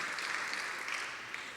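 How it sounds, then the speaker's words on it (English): An audience applauds at a library literary awards celebration in Virginia, a dense, steady wash of clapping from many hands that holds at an even level throughout. "Yes, you may applaud her because she looks really beautiful"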